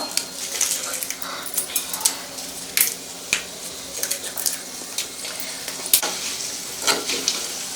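Fenugreek seeds and three broken dry red chillies fry on a low flame for a fish pickle, giving a soft steady sizzle with scattered stirring clicks. Now and then a dog barks or whimpers in the background.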